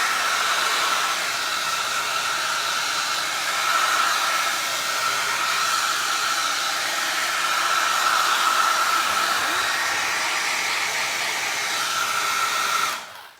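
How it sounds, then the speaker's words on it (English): A hair dryer blows steadily and loudly for the whole stretch, a constant airy whoosh that cuts off abruptly at the end. "I'm gonna hit this with a little bit of a hair dryer"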